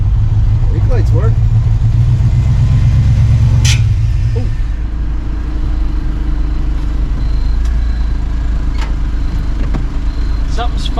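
A 1957 Chevy drives with its engine running loud and steady under the cabin, the note dropping and changing partway through as the transmission struggles and fights to shift. There is no talk.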